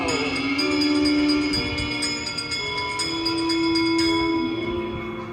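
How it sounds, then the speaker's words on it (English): A bell rings with long, sustained tones that overlap and decay, one strike early and another around the middle, clear and resonant. "give us a hint by ringing a bell"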